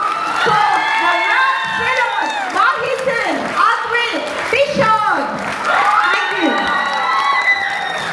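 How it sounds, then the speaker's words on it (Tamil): Concert audience at a large music event in Norway cheers, whoops and applauds, with loud overlapping shouts and voices over continuous clapping throughout. "ஸோ நீங்க எல்லாரும் மீண்டும் ஒரு பெரிய கரகோஷம் கொடுக்கலாம்."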